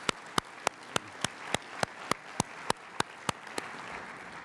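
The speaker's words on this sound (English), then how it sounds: "please give them a big round of applause" Sparse applause from a small group, about a dozen distinct claps in a slow, even rhythm, then fading into room noise.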